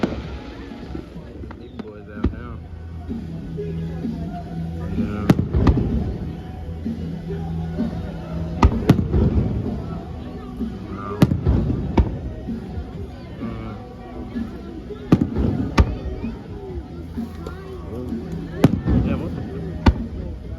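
Fireworks burst repeatedly during a July 4th celebration, sharp cracks and booms scattered across the span, some loud and near, with people chatting and murmuring in the background between blasts.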